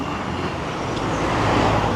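Street traffic with taxis passing rumbles on a road in Tenerife, a steady broadband wash of engines and tyres that swells slightly toward the end, with no talk.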